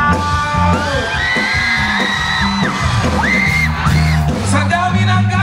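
Crowd at an outdoor concert yelling and whooping loudly in repeated bursts, mixed with music and amplified sound filling the venue.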